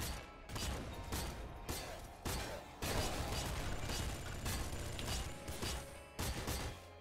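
Weapon fire in the video game Nuclear Throne, including bouncer plasma, a dense, loud barrage of overlapping shots and impacts with brief gaps, continuous and chaotic throughout.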